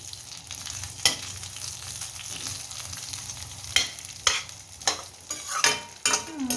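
Vermicelli roasting in ghee in a pan for kheer, with a steady frying hiss and a series of sharp, close stirring scrapes that grow more frequent toward the end.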